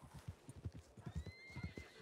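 A horse in a ranch roleplay video game clops along in a steady run of hoofbeats, with a whinny rising partway through, fairly quiet and without talk.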